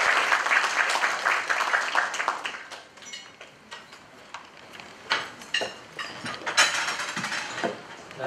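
Applause from the audience at a charity medical society's board installation ceremony, loud and dense at first, then fading to scattered, uneven claps that pick up again in short bursts.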